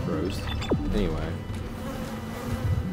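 A steady droning buzz of bees fills a Dead Space game area, close and continuous, with brief game sound effects briefly cutting across it and no talking.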